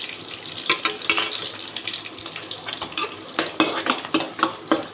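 Four green chillies, seeded and chopped, fry in a pan for an egg and cabbage stir-fry, a soft sizzle under repeated scraping strokes of a spoon against the metal.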